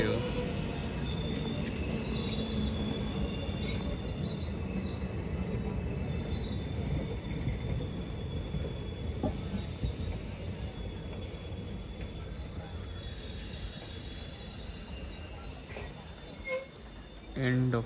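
A train passes through Kottayam Railway Station in Kerala at night, a steady loud rumble of coaches and wheels on rails running throughout, with a brief squeal near the end and voices talking over it.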